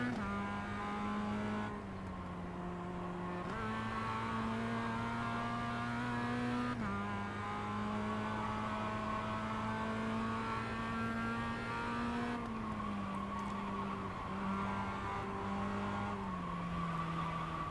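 Sim race car engine from iRacing droning steadily with shifting pitch as it brakes and accelerates through corners, with faint tire squeal under oversteer; someone speaks briefly over it.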